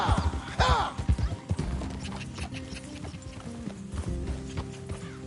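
Horses in a video game clop along with hooves striking hard ground in quick rhythmic beats that slow and settle, a snort or whinny near the start, under a low ambient game soundscape.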